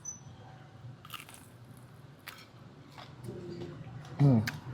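A single loud crunchy bite into crispy pork belly near the end, preceded by soft chewing and mouth sounds with low background murmur.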